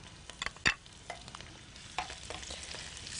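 Food sautéing in a hot pan while being stirred, ahead of adding green pepper: a steady bright sizzle with sharp scraping clicks from the utensil, close and fairly loud, with no talking.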